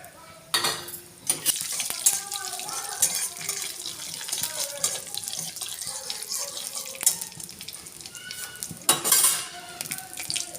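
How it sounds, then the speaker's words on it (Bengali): Black cumin, cumin and chili flakes frying in hot oil, a continuous close crackling sizzle with scattered clinks of utensils and a louder burst near the end. "তেলটা গরম হলে আমি একটু কালো জিরে, সাদা জিরে আর একটু চিলি ফ্লেক্স দিয়ে দেব"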